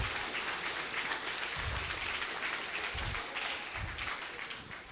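Community audience clapping at an outdoor road opening ceremony, steady moderately distant applause sustained for several seconds, with a few low thumps underneath.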